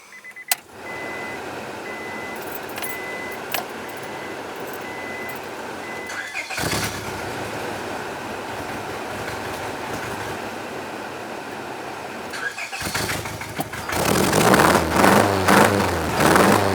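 A car engine cranks and starts after a first-time spark plug replacement. Faint beeps and clicks come first, then two loud cranking bursts, and finally a rough, surging run near the end, with no talking.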